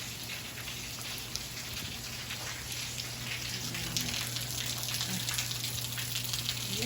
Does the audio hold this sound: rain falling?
yes